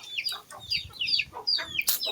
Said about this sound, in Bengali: উপরে সব মুরগি চড়তেছে